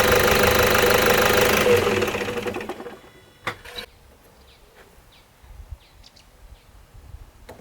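A vehicle engine runs loudly and steadily for about two seconds, then cuts off and fades out, leaving quiet outdoor ambience with faint chirps and a couple of small knocks.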